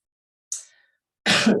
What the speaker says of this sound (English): You'll also notice I have a really tickly cough at the moment